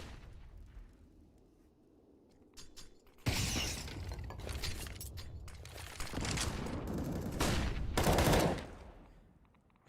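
Rapid gunfire from a Counter-Strike match, with sharp bursts of automatic shots and rattling volleys starting after a quieter stretch, loud and close, then a final heavy burst before trailing off.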